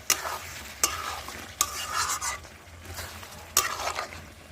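Chicken kosha fries in oil in a pan over a low flame, a soft steady sizzle broken by several sharp scrapes and knocks of a spoon against the pan as it is stirred.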